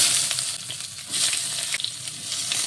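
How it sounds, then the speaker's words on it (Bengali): Chopped onions fry in oil with bay leaf, cinnamon, cloves and cardamom, giving a crackling, bubbling sizzle with intermittent stirring scrapes. "পেঁয়াজটিকে একটু ভেজে নেব।"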